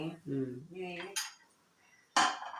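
Fried peas are scooped from a pan into a dish, giving a few soft scrapes followed by a sharp metallic clink of a spoon against a utensil, close and quiet.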